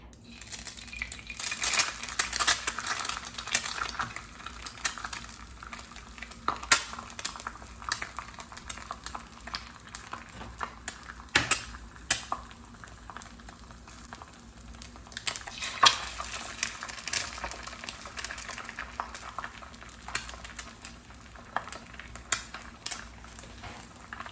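Eggs frying in ghee in a hot glass frying pan give a continuous soft crackle and spatter, broken by a few sharp clinks of cookware, with no talking.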